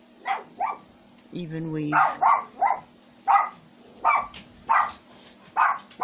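A small dog yaps in quick repeated bursts close by while a person speaks over it.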